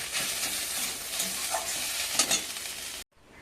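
Leafy greens frying in a pan with a little salt and turmeric, stirred steadily: a continuous close sizzle with scraping strokes that stops abruptly near the end, leaving a faint quiet hum.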